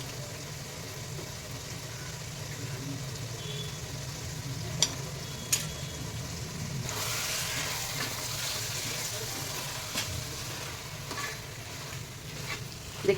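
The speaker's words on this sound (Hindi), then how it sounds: "ये देखिए गरम मसाले के साथ ही मैं इसमें गोश्त डाल रही हूँ।" Mutton going into a pot with garam masala sizzles and fries steadily, with stirring scrapes and a few sharp clinks over a constant low hiss, recorded close.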